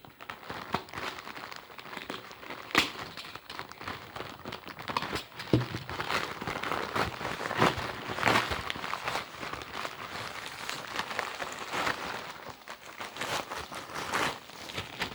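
Plastic packaging from a manga parcel crinkles and rustles continuously as it is pulled apart and unwrapped, close and soft, with frequent small crackles and tearing sounds throughout and no talk.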